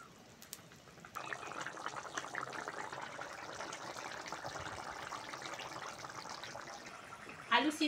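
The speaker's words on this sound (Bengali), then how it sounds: "এবার জল দিয়ে দেবো।" Water pours steadily into a pot of spiced curry masala, a continuous splashing rush that runs for several seconds after a quiet start and ends with a brief louder clatter.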